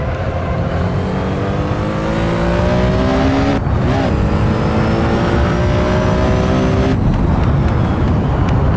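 Sports prototype and GT race cars at the 1971 Daytona 24 Hours roar loudly and continuously at speed, engines rising and falling in pitch as the pack closes on slower back markers.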